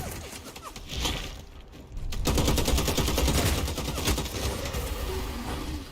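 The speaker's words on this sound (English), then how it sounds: "We might be able to cause some havoc with this assault rifle." An assault rifle fires in the video game Bloodhunt in dense, continuous automatic bursts, loud and close, layered over a busy game soundscape.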